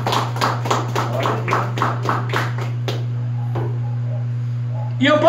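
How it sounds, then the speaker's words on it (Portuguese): Rhythmic joyful clapping at a church worship service, a steady beat of sharp claps for about three seconds with a low hum underneath, then fading to quiet room noise. "Palmas bem alegres para Jesus."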